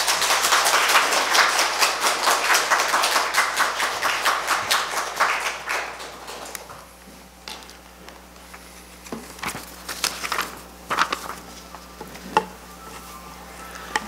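A church congregation at Sunday worship applauds to greet the pastor, a dense burst of many hands clapping in rhythm that fades after about six seconds into quiet room tone with scattered faint taps.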